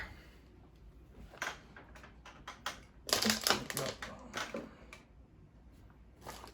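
A Dell OptiPlex 3020 desktop setup gets rearranged as a keyboard and cables are handled on a desk, with scattered close taps, clacks and a burst of rattling knocks, fairly quiet between bumps.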